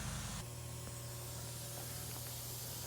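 White paint sprayed onto a Polaris Indy snowmobile hood, a continuous close airy hiss from the spray gun lasting several seconds without a break.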